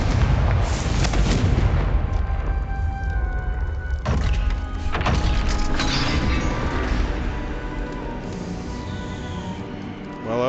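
Confringo fire-blast spell exploding in Hogwarts Legacy, loud booming blasts with crackling bursts near the start and again around the middle, over a dense rumbling game soundscape.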